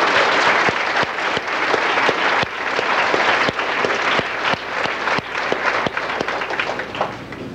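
An audience at a 1982 elementary school dedication ceremony applauds steadily, a dense wash of clapping with a few sharp individual claps standing out, loud and continuous throughout.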